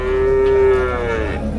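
A dairy cow at a cattle market in Deohata, Tangail, gives one long, loud, close moo that holds steady and then fades, with low market murmur underneath.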